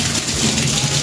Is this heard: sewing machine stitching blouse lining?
no